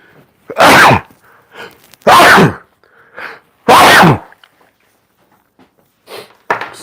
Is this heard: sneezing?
yes